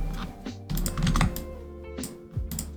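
Keystrokes on a computer keyboard while working in Blender come in quick close bursts of clicky taps, with short pauses between the runs of typing.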